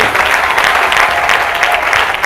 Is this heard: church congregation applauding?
yes